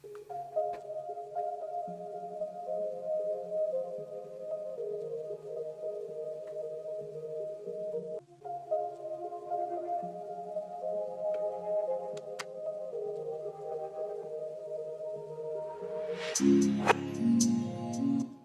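A beat intro plays, with a looping synth figure of sustained tones repeating over reversed chords. The mix stays fairly quiet and steady, then a brighter, fuller hit enters near the end.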